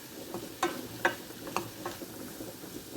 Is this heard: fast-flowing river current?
no